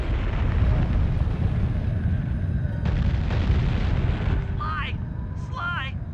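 Gunfire and explosive blasts from shooting at Clockwerk in the Sly 2: Band of Thieves video game, a dense continuous barrage with rising whistling game effects near the end, under game character voices.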